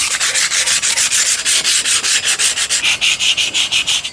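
Rust being sanded off a metal ladder by hand, a rhythmic scratchy rasp repeating in quick even strokes, roughly five per second, loud and close with no talk.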